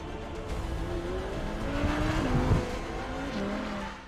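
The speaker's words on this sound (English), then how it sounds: "On the racetrack, the R8 V10 Plus can be easily and quickly handled like no other sports car with more than 600 horsepower." An Audi R8 V10 Plus sports car with over 600 horsepower laps a racetrack, its engine note climbing and dropping through gear changes as it corners and accelerates, rising to a peak before fading slightly.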